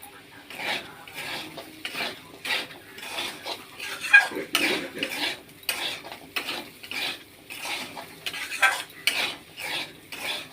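A spoon scrapes and clanks in a pan as onions and spices such as turmeric, salt and chilli powder are stirred and fried. Close, rhythmic strokes repeat steadily over a faint sizzle, with no talking.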